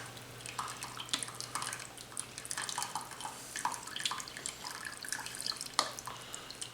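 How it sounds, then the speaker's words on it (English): Au jus liquid drips from slow cooker beef, a steady patter of small drops and trickles close by, with no talk. "It's still dripping."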